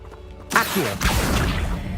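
A spell cast in the Hogwarts Legacy video game: a sudden magical whoosh and crackle bursts in at half a second and carries on as a dense, sustained effect with swept tones.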